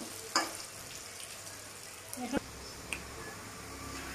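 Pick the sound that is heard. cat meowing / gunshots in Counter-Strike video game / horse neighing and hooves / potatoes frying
potatoes frying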